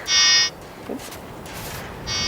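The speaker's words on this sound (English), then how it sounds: "Is that a faint beeping I can hear?" Two short bursts of electronic beeping from a radio tracking receiver, one at the start and one at the end, with a soft noisy hiss between them, in the Grand Canyon.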